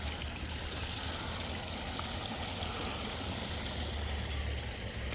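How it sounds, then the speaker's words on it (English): Water runs steadily and continuously during a large aquarium water change, a broad, even trickling and rushing close by, with no talk over it. "I'm actually in the middle of doing a huge water change right now."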